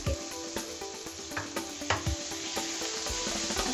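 Red chili powder and ginger garlic paste roasting in a pan with browned ingredients, giving a close, steady sizzle with intermittent scraping stir strokes.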